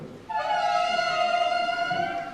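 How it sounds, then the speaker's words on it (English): At an intermediate school sixth-grade concert, a tenor saxophone enters after a short pause and holds one deeper, rich reed note. The note stays loud and even for about two seconds before easing off. "The tenor sax is the big cousin, and that one's a little bit deeper."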